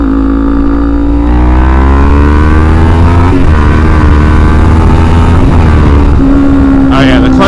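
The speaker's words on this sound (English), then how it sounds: "But we'll do one quick little pull." A Kawasaki Ninja 400 with a slipping clutch pulls hard. Its engine note climbs steadily in pitch over several seconds, then drops briefly at a shift. The sound is loud and close, with wind buffeting near the end.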